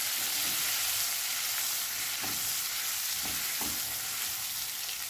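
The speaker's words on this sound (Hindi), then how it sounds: "जैसे ये सौते हो रही है, बहुत जल्दी से ही हो जाती है" Mutton khichda ingredients sizzle and fry steadily in a hot pan, a continuous close hiss broken by a few sharp stirring scrapes, with no talking.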